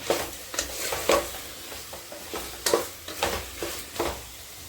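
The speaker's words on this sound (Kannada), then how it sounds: "ಎಣ್ಣೆ ಬಿಟ್ಕೊಳ್ತಿದೆ ಅಂದರೆ ಮಸಾಲೆ ಎಲ್ಲ ಚೆನ್ನಾಗಿ ಫ್ರೈ ಆಗಿದೆ ಅಂತ" Masala seasoned with rock salt fries in oil for drumstick biryani: a continuous sizzle broken by repeated scraping stirs of a spoon against the pan, close and clear, with no talk.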